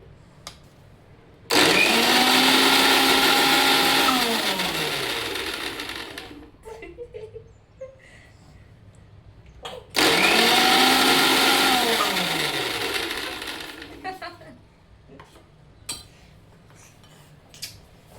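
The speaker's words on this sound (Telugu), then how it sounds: "మిక్సీ పడతాను." Electric mixer grinder (mixie) run twice for cake-making, each burst a loud whirring roar that winds up sharply, holds several seconds and spins down, with quiet gaps and brief clatters between.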